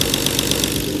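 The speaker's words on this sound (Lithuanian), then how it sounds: "Tai šitie Bošo purkštukai ganėtinai garsiai dirba." Idling BMW E36 turbo engine with Bosch fuel injectors, a steady close mechanical hum carrying a fast, regular ticking from the injectors, with no voices.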